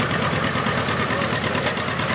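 A 1950 tractor engine idling at a steady, even chug, close and loud, with a constant low rumble and no talking.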